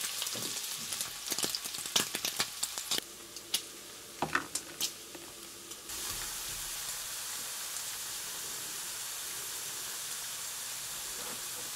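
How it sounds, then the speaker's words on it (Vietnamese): Pork belly with a little water sears in a pan as its fat renders, a close, constant hissing sizzle punctuated by sharp spits and pops that settles into an even fry. "Mình áp cho cái phần thịt ba rọi này nó khô và nó săn lại ha"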